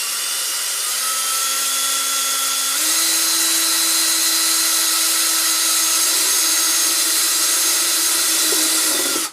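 A power drill bores holes through a plastic AM 4.5 Stormtrooper helmet, a loud, steady high-pitched whine that shifts pitch slightly partway and runs continuously for about nine seconds before stopping abruptly.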